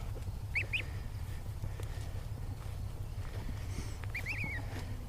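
Goslings peep in two brief, soft bursts of high chirps, one near the start and one near the end, above a steady low hum with faint shuffling.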